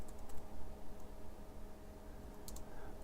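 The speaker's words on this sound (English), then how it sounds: "Let me see if I can type into the chat here." Keys clicking on a computer keyboard while typing into a chat, quiet and irregular, set against a steady background hum.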